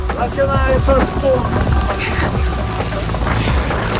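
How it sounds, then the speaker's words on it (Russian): Slanting rain patters onto a river around an open boat in Ninh Binh, Vietnam, a dense close hiss mixed with wind buffeting and low engine rumble, some faint tonal squeals drifting in early on. "Вот этот косой дождь прям такие узоры создает на реке"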